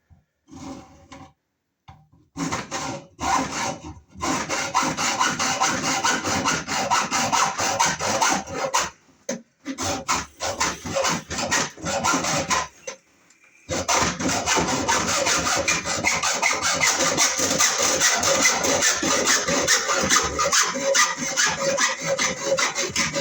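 Wiremold surface raceway for 120-volt kitchen outlets being sawn through by hand, with rapid rhythmic back-and-forth rasping strokes, loud and close. A few short pauses break the cutting before it continues steadily to the end.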